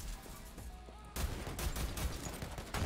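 Explosive pistol fire in Borderlands 3, a dense burst of loud, booming shots and blasts packed together over a constant game background, the barrage swelling after the first second and running to the end.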